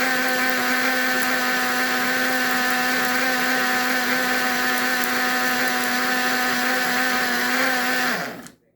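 A blender whirs steadily at full power through a thick strawberry, banana and chocolate protein pudding, a loud close motor whine holding for about eight seconds before cutting off and winding down.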